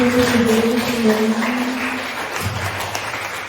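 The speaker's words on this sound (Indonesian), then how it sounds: "beri tepuk tangan yang meriah untuk Ibu Elis Sundani" An audience at a school gathering claps together in a short burst of moderately loud applause, a voice briefly heard over the start.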